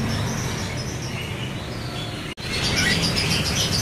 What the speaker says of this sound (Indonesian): Ready juga burung cicak jenggot Jawa gacorannya nih